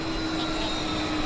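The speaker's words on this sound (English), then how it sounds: "BizJet's heading away." A business jet departs from Vancouver airport's runway 26 left, heard as a steady, broad engine roar with a faint whine that holds level throughout the short stretch.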